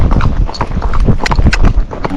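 A Rocky Mountain horse moving in a racking gait, its hooves striking in a quick, even clip-clop rhythm close to the microphone, with wind buffeting and a voice talking over the footfalls.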